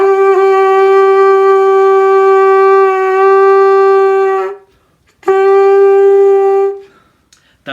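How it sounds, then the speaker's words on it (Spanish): An animal horn of an ancient, primitive kind is blown in two long, loud, steady tones, the first lasting about four seconds and the second shorter after a brief breath, a rich buzzing note heard close with no talking. "Aquí tengo un cuerno que es similar a lo que se hubiese usado en esa época"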